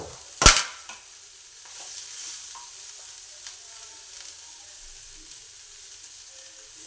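Sweet corn fries in a pan with a sudden loud crack at the start, then settles into a faint, steady sizzle with scattered small pops, heard up close and with no voices.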